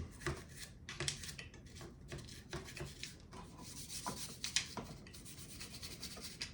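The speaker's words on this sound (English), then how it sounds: "we're scrubbing the inside" Scrubbing inside a Zastava M70 AK47 rifle, a quiet, irregular rasping rub of brush against metal that repeats in short strokes, fairly close and alone.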